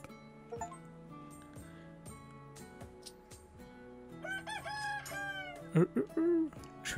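Rooster crowing in the video game Tavern Manager Simulator, a drawn-out cock-a-doodle-doo rising near the end over game music and clinking chimes, fairly quiet overall.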